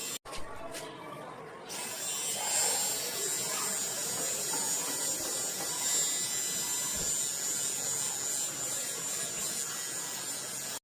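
A Vifera electric face hair remover buzzing steadily against skin, a close, thin high-pitched whine that starts after a short pause and runs continuously.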